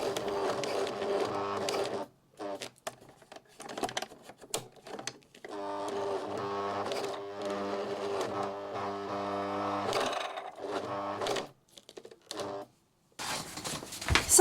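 A sewing machine stitches in a zipper pocket, running in short bursts and longer steady runs broken by brief pauses, close and fairly loud, with no talking.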